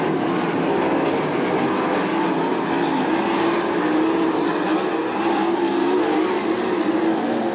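Sprint cars roar through a dirt-track heat race, a dense, steady engine drone with shifting tones from several cars at once and no talking.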